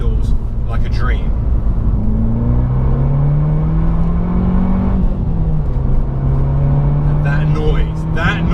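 An Abarth 695 XSR Yamaha engine drones loudly as it revs on damp roads, its pitch climbing and easing over steady road rumble, with a voice breaking in briefly.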